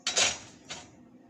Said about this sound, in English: I'm gonna put my frying pan on the stove now